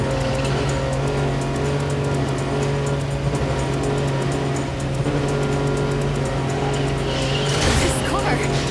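A car in the video game Neverness To Everness drives with a steady humming engine drone throughout, joined near the end by a brief burst of tire scrub.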